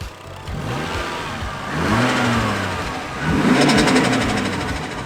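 Toyota Chaser JZX engine with an Apex exhaust revving hard in bursts, the pitch climbing and falling with each throttle blip over a raspy exhaust note, loud and close.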